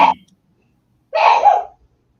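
A single sneeze bursts out sharply near the end, preceded by a short vocal fragment and quiet, close and loud in an otherwise silent room.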